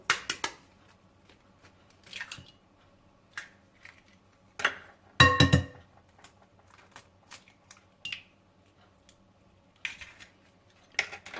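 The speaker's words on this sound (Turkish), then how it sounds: "Yumurtalarımızı kırıyorum" Eggs are cracked for a soft poppy-seed dessert, giving several sharp, brief taps and cracks against a bowl spaced over about ten seconds, with one louder cluster of knocks midway. The sounds are close and clear against a quiet background.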